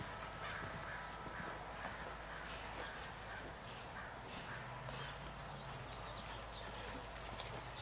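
A horse being ridden at a stable gives off steady clip-clopping hooves throughout, with a constant broadband background and no talk.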